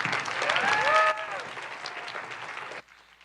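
An audience at a live event applauds a band in a dense burst of clapping. It begins loud, eases slightly and then cuts off abruptly, with a voice briefly heard over the start.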